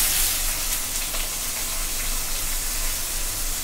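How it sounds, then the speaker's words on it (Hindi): Chopped onion and white cumin seeds frying in a pan, a loud, steady hiss and sizzle filling the whole moment without pause. "उसके बाद गाइस ये जो कटा हुआ प्याज ये दे देना पड़ेगा"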